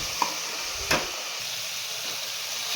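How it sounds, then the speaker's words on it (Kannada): Masala frying in oil in a pan, a steady soft sizzle with a couple of brief stirring scrapes, close and alone without voices. "ಆಯಿಲ್ ಬಿಡೋಕ್ಕಂತ ನೀಟಾಗಿ ಫ್ರೈ ಮಾಡ್ಕೊಳ್ಬೇಕಾಗುತ್ತೆ ಈ ಮಸಾಲೆನ"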